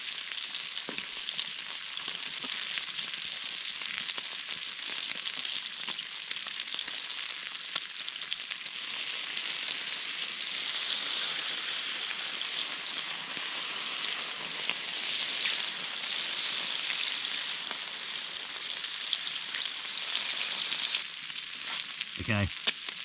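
Potatoes and lime-seasoned cutlets frying in a pan at a riverside campsite on the Darling, a steady crackling sizzle that swells and eases over time, with a brief clatter near the end.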